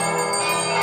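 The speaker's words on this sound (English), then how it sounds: "Soon it rang out loudly, and so did every bell in the house." Bells in a house ring out together, a dense, loud sustained peal that carries through the whole moment without a break.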